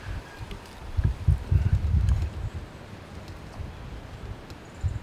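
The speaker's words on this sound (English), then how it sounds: "It's pretty windy out" Gusty wind outdoors on a late-October night in Iowa hunting country buffets the microphone in low, rumbling bursts, strongest early on, over a faint steady rustle.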